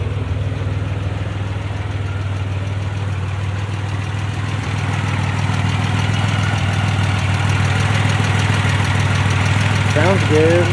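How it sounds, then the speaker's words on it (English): A Pontiac Grand Am fitted with a supercharged 3800 engine swap idles steadily and loudly up close, a constant low rumble running throughout with a voice briefly heard near the end. "Now it's just sitting here idling."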